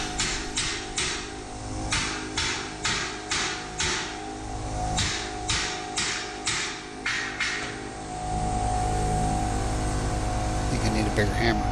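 Pneumatic air hammer running off an air compressor gives a rapid string of sharp, evenly spaced hammering bursts, then a steady, loud hiss and mechanical drone once the strikes stop.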